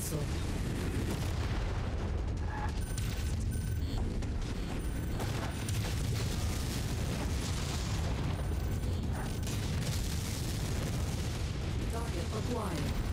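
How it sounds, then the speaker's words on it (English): Missile explosions and gunfire from the MechWarrior 5 mech combat game, modded; dense continuous roar of blasts and booms throughout, with game radio voice callouts over the barrage. "Incoming missile."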